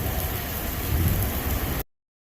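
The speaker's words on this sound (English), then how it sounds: "I'm stuck under a bridge in the rain. And it is a lot of rain." Heavy rain pours steadily in a dense, loud hiss with low rumbling underneath, heard from under a bridge, then cuts off abruptly into silence near the end.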